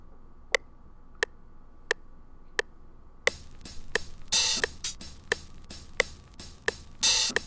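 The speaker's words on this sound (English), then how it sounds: "Open hi-hat." An open hi-hat sample in a record-flip beat session, heard as a steady pattern of crisp, isolated metallic ticks about every 0.7 seconds, joined halfway through by a hissy layered loop with brief bright washes.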